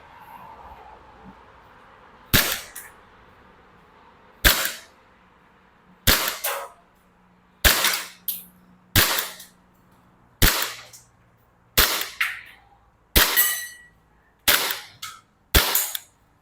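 A WE Glock 23 Gen4 BB pistol fires about ten single, sharp snapping shots at slow, fairly even intervals, each close and loud with a quick metallic tail, in a quiet setting.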